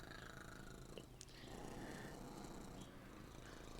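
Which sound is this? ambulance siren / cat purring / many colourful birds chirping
cat purring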